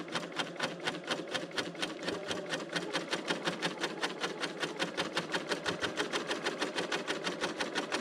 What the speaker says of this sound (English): I'm using the 4-thread cover stitch number 21, and I'm trying to keep the middle needle right in the ditch.